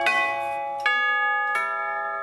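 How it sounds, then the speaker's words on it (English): Three struck metal tubes ring out one after another, each bell-like tone sustaining and overlapping as it slowly fades. "they're like these cylindrical tubes that they sound like church bells"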